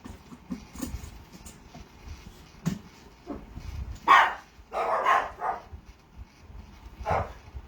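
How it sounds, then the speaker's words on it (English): A dog barks several times in short bursts, nearby and fairly loud, between quieter household clatter. "There's nobody here. Stop barking."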